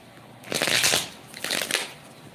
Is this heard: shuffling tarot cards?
yes